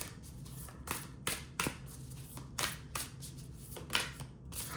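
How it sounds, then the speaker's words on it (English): A deck of cards is riffled and shuffled by hand in repeated quick bursts, each a crisp fluttering rasp, close and fairly quiet, with no talking. "Keep shuffling. One will come out."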